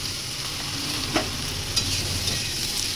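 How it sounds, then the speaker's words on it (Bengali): Eggplant pieces fry in an oil-filled pan for a Bengali vegetable dish. A soft, steady sizzle plays up close, broken by a couple of light stirring scrapes, with no talking. "বেগুনগুলোও ভালো করে আমি ভেজে নিচ্ছি।"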